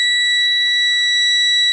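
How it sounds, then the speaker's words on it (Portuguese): A multimeter's continuity beeper sounds while probing a 100-ohm resistor on a shielded circuit board, giving one loud, steady, high electronic tone that holds unbroken for nearly two seconds. "se eu colocar esse aqui, o pino no meio, e colocar nesse resistor aqui, é um resistor de 100 ohms, ele tem que bipar"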